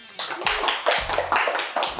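A few rhythmic hand claps ring out in a home kitchen just after a meatloaf and mac and cheese dish is finished, sharp and close, steady at about two per second.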